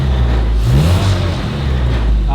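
A 1963 Mini Cooper 997 engine, revived after decades, runs loud and close, its note climbing and dipping as the throttle is blipped.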